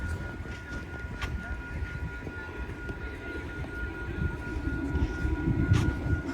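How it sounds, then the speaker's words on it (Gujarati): A tram rolls past in the background of an outdoor spot where birds gather, a low continuous rumble with faint rail clatter that swells toward the end, mid-distance and moderately quiet. "પાછળ જો ટ્રામ જાય"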